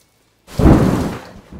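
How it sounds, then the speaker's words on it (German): Heavy rain with a rumble of thunder from the storm scene of The Rocky Horror Picture Show, starting abruptly after a short silence, swelling loud and then easing slightly. "Brett und Janet sind auf der Suche nach Franks Telefon und müssen dabei durch den Regen laufen"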